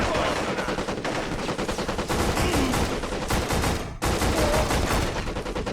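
Rapid automatic gunfire in the shooter video game Black, dense overlapping bursts of shots filling the whole stretch with only a brief gap near the middle, loud and close.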